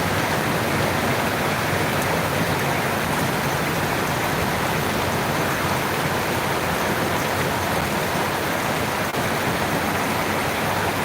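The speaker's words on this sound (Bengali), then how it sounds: "প্রচুর ধারে বৃষ্টি হচ্ছে মৌসুম ধারে বৃষ্টি হচ্ছে" Heavy monsoon rain pouring at night in a steady, dense roar that never lets up, with no voices.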